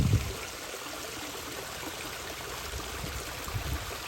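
Water spills steadily from a small waterfall into a backyard koi pond, a soft continuous splashing rush at moderate distance with no talk.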